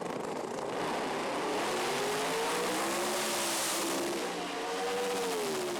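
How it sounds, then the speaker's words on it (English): Turbocharged and supercharged drag race cars at full throttle, a sustained loud roar with rising engine tones across the whole stretch and no talking. "You're going to take a turbo car on the left side of the screen and a supercharged car, Chuck Hulse, on the right."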